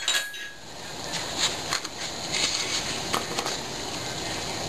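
Spoon stirring peaches and sugar in a bowl, a steady series of light clinks and scrapes against the dish at close range.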